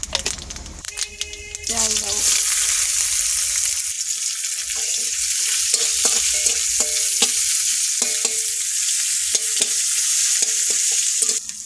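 Whole spices for a five-spice tempering crackle and sizzle in hot oil, a steady bright frying hiss with small pops and stirring clinks throughout, close and fairly loud with no talking.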